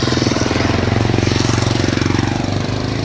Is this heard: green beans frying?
no